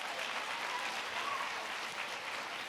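An audience claps steadily at a children's read-aloud event, a dense, even wash of applause that holds at one level throughout without any voices over it.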